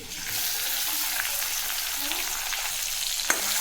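Finely chopped tomatoes fry in oil, a close, even hiss of sizzling that holds steady throughout, with one brief utensil tap near the end.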